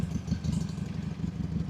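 Several motorcycles idle together on a group night ride, a close, steady chugging rumble with a rapid pulsing beat and some mechanical clatter.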